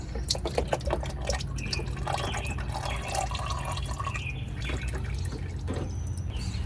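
Oil drips and trickles steadily during an oil filter change on a four-door Jeep Cherokee XJ, a close, continuous patter of drops over a low hum.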